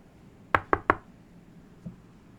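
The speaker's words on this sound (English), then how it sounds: "the poet knocked at the girl's family's door" Three sharp knocks on a door come in quick succession, close and crisp against a quiet background, followed by a faint dull thud a moment later.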